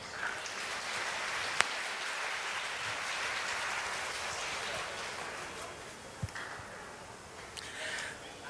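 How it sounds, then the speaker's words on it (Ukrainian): Sustained crowd applause from an audience at a nasheed evening concert, a dense steady patter of clapping lasting throughout and tapering slightly near the end, with no talk over it. "Еще раз попрошу ваших аплодисментов."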